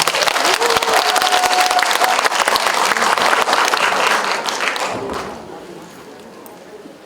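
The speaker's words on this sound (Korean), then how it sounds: "박수로 환영해 주십시오" A workshop audience applauds to welcome a council member at a care-worker policy session, a loud, dense clatter of many hands that holds for about five seconds, then fades quickly into quiet room tone.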